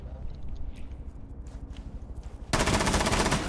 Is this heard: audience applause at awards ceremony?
no